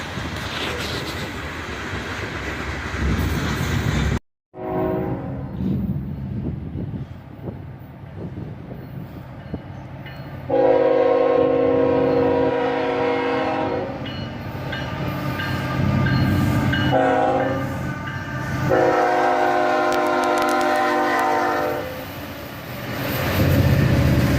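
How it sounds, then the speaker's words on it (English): A heavy Norfolk Southern coal train led by a pair of CSX locomotives, an ES44AC and a Dash 9, rumbles past with deep diesel engine drone, rising as locomotives approach, then steady clattering of cars rolling by. "a pair of CSX locomotives leads a Norfolk Southern coal train"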